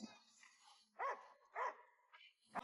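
A small dog lets out a few short, yappy barks with quiet whimpering sounds between them, heard faintly indoors.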